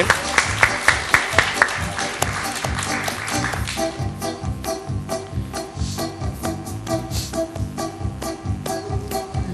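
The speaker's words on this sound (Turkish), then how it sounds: "Bileciğe bir alkış." Studio audience on a Turkish TV program breaks into applause, a burst of close, dense clapping that soon settles into a steady rhythmic beat backed by music.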